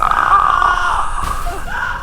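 A man's terrified scream during a horror story set in a jungle, heard as a loud, sustained strained cry that wavers and breaks partway through, close and harsh.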